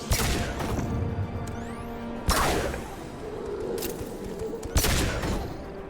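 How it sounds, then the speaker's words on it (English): Heavy pistol fired in Mass Effect Legendary Edition: a few sharp, loud shots spaced a couple of seconds apart, ringing over a steady hum of game ambience and tones. "heavy pistol feels really strong"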